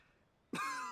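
A sudden single cough from a character in Genshin Impact dialogue, loud and abrupt after near silence, trailing off briefly.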